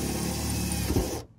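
A power drill whirs steadily as it bores through the metal floor of a Volkswagen Crafter van, a dense mechanical drone that cuts off abruptly near the end; no voices.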